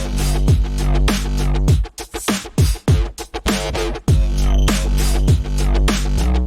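Synth sub bass with drums drives a loud electronic theme-song groove, with deep sustained bass notes under punchy beats, a short broken-up break in the middle, then the full pattern returning.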